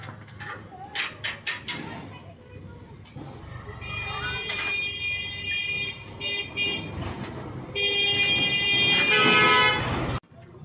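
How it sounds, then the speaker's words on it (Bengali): Busy road traffic rolls past with vehicles droning by and horns honking repeatedly, some in long sustained blasts, close and loud with a few sharp clanks early on. "খুব গাড়ি ঘোড়া যাওয়ার কারণে শব্দ হচ্ছে"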